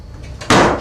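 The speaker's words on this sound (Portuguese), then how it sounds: "ele presenciou essa mesma porta batendo com muita força" A door slams shut with great force, a sudden loud bang that cuts through a quiet room and rings out briefly before fading.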